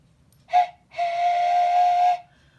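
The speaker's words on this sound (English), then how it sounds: "Somewhere behind us, a train whistle blew," A steam train whistle gives a short toot, then one long, steady, mournful blast lasting over a second, heard clearly with no talk.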